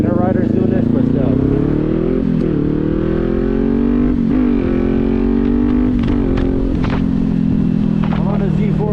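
Kawasaki Z400 motorcycle ridden in high winds, its engine droning steadily and rising and falling in pitch with throttle changes, loud and close under heavy wind roar, with a rider talking over it.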